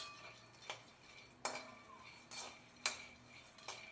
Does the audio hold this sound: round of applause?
no